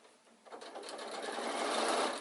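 A sewing machine runs a steady line of stitches across the front of an insulated picnic bag. The motor starts softly, then picks up into a continuous, close, gradually louder whir with no talking.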